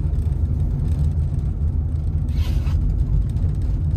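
A car engine idling along in third gear with no pedals pressed, a steady low rumble and hum close by, with a brief brighter whoosh midway and no speech.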